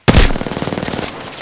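Apex Legends gunfire on PS4: a loud automatic burst opens abruptly, then rapid shots repeat in a fast, even rhythm close up before easing off.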